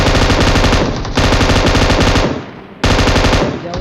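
AKM assault rifle fire in PUBG Mobile. Loud, rapid automatic bursts come in three long strings with short gaps between them, close and dense.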